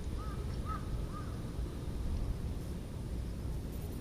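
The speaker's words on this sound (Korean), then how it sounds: "까마귀가 지나간다." A crow passing overhead gives a few short caws, moderately distant, over a constant roar of wind and traffic-like background noise.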